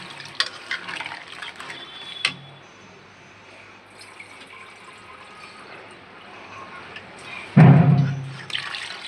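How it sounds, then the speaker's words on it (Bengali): Water is poured into a pan of papaya and hilsa fish curry in a short splashing gush near the end, after quiet cooking noise with a few faint clinks. "জল দিয়ে দিব।"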